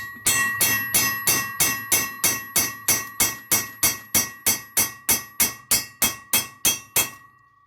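Hammer blows on the cylinder head of a 1983 Harley-Davidson FXRT 80ci Shovelhead big twin during a top-end rebuild, about twenty evenly spaced, sharp ringing metallic strikes, loud and close, with no talking.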